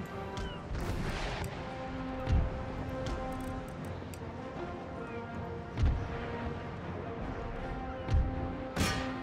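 Naval cannons fire chain shot in a sea battle in Empire: Total War, four heavy booms spaced a few seconds apart over a murky backdrop of distant battle noise and faint ticking.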